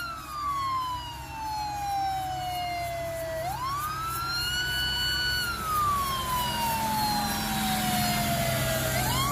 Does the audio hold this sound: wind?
no